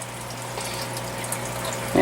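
A small stream of water is poured over planted pepper seeds in peat moss, making a steady trickling splash with a faint constant hum underneath.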